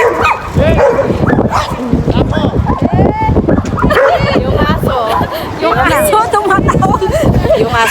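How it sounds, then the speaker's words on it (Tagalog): A dog crossing among people at Irini Olympic stadium in Athens yips, barks and whimpers in quick excited bursts, mixed with loud nearby chatter and voices. "Yung aso tumatawid, sumasali."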